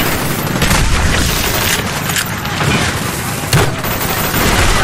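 Dense Call of Duty Black Ops battle din, sustained gunfire and booming blasts that suit China Lake grenade launcher shots, loud and continuous with a sharper burst near the end.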